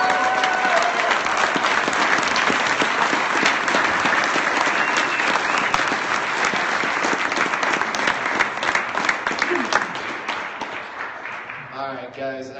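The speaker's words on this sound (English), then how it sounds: "Everybody give Abby a round of applause" Audience breaks into a long round of dense applause with scattered cheers, sustained loudly before tapering off at the end as a voice starts to speak.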